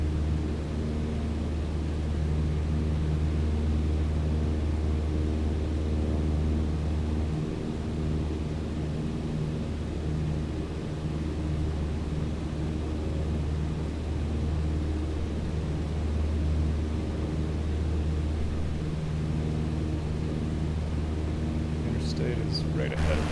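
Cessna 152 engine at cruise RPM in Microsoft Flight Simulator 2020, a steady, loud droning hum with strong low harmonics that holds unbroken throughout, briefly dipping in pitch midway, with a faint clicking near the end.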